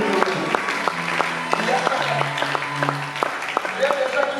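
A church congregation applauding the Lord, a loose round of clapping mixed with crowd voices and tonal sounds from the room, with a person speaking over it throughout.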